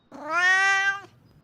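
A single drawn-out cat vocalization, close and clear, rises then falls into a yawning tone and stops abruptly, alone against a quiet background.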